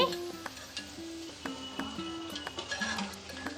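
Palm fruit garelu fry in oil in a pan over a low flame, with a constant sizzle broken by light clinks and scrapes of stirring, close by and without talk.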